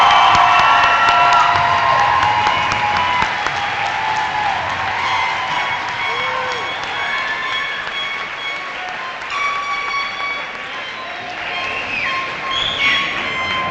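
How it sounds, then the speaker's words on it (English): A crowd at a 2017 summer graduation ceremony for the Greeley-Evans Alternative Program cheers and applauds for the graduates. The loud, sustained wash of cheers and clapping continues for the whole stretch, with no speech over it. "We're going to give you one more round of applause."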